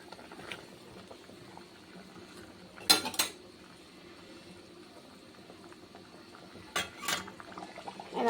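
Pieces of katla fish are dropped into a bubbling curry gravy, with two short bursts of splashing and clattering against the pot over a faint simmer.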